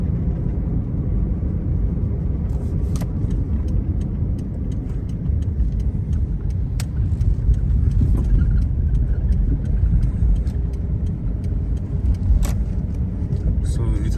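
A car drives along a dual carriageway road at Golf Annex in Enugu, with a steady engine hum and road rumble heard from inside the cabin.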